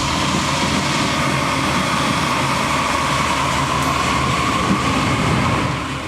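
A freight train rolls past at a station in a loud continuous rush of wheels and rail noise with a faint sustained hum, close and unbroken, easing slightly at the very end.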